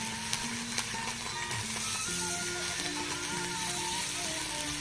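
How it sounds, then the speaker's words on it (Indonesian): Melinjo leaves stir-frying in a pan, a soft, steady sizzle with faint scraping and clinks of a utensil stirring, fairly quiet and close, with no talk. "Tumis ini melinjo, daun melinjo atau daun tangkil."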